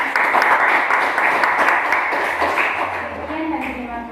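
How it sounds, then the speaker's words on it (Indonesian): Classroom applause from students for a presenting group in an Indonesian geography lesson, moderate clapping beneath a teacher's speech, fading toward the end. "Ya, berikan tepuk tangan."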